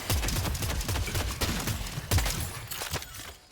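Suppressing gunfire in the video game Deadlock, heard as rapid, dense bursts of loud shots with sharp cracks layered over one another, fading out near the end.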